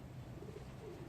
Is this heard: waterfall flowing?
no